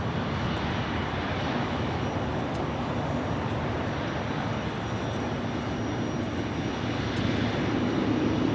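Lufthansa Boeing 747 in retro livery taxiing at LAX, a steady broad jet engine roar filling the scene continuously at moderate distance, with no talk over it.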